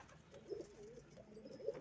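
Gola pigeons coo softly in a loft, a faint, low murmuring of several birds with no voices present.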